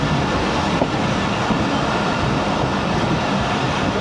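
Passenger express train halting at a station on a Pakistani branch line near Shahdara Bagh, with a steady broadband rumble of rail cars that stays loud and continuous throughout, no voices.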